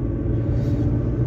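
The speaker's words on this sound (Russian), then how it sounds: "я за рулем тут еду" Steady low engine rumble and road noise from inside a moving car, continuous and fairly loud, with no talking during this brief stretch.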